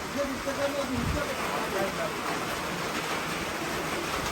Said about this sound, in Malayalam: മഴ എന്ന് പറഞ്ഞാൽ നല്ല എമ്പതിൻ്റെ മഴയാണ്